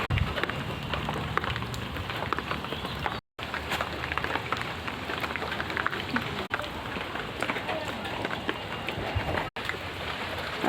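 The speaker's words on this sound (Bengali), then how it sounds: "আজকে 4 দিন ধরে বৃষ্টি পড়ে যাচ্ছে সমানে।" Continuous rain falls in a steady, dense hiss with a few short breaks, heavy and unbroken across the whole stretch.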